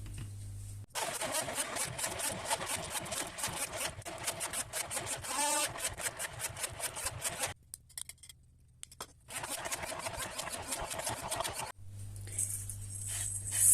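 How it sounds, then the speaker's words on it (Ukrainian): A blender whirs loudly in two long bursts with a short pause between them, pureeing chicken liver pâté, its motor buzzing steadily, close up. "зараз буду все перебивати блендером"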